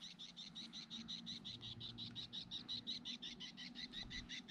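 Birds call repeatedly in a fast, evenly pulsed series of bright chirps beside a Norwegian salmon farm, with the steady low rumble of wind or water underneath and no talking.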